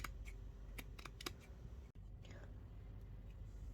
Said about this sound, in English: I'm just taking another one of these lace doilies at the moment, and I'm just going to cut that smaller one out.